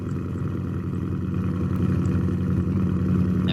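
A 2024 Ford Mustang engine with dual exhaust idles nearby with a steady low burble that swells slightly toward the end.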